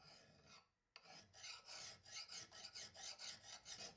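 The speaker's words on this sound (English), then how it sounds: "that's fixed with a little filing" Rhythmic rasping strokes of a hand file shaping a small metal spacer for a 1985 AMC Eagle suspension part, close and steady, starting after a brief pause and continuing in even back-and-forth passes.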